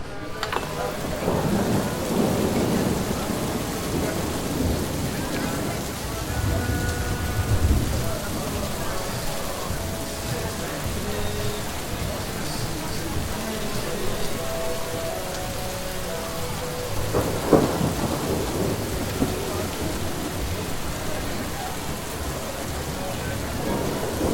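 Heavy rain pours steadily while thunder rumbles and cracks at intervals, with occasional faint voices in the background.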